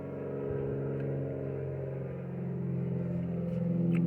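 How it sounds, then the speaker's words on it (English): A car drives at steady speed on a soggy day, with a muffled interior engine hum and road rumble that swells slightly toward the end and no speech. "Let you ride in the car with me real quick."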